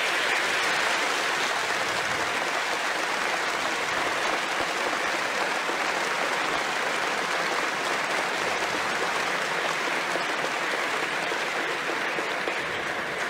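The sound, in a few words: applause for the Pope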